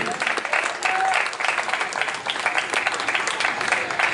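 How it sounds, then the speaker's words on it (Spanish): Congregation applauding during an evening church service, a dense, steady wash of clapping from many hands filling the room, with faint voices mixed in. "Puede sentarse y darle un aplauso al Señor en esta noche."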